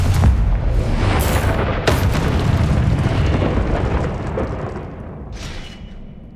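A Confringo spell in Hogwarts Legacy bursts as a loud, rumbling explosion with crackling debris, then decays slowly over several seconds.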